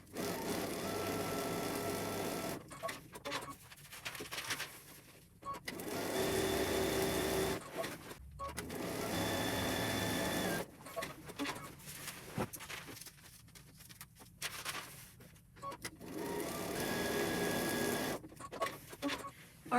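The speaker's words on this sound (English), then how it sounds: "You need to sew that whole line" A sewing machine stitches a line across paper-pieced quilt units, running in repeated loud bursts of rapid needle chatter separated by short pauses, close and without talk.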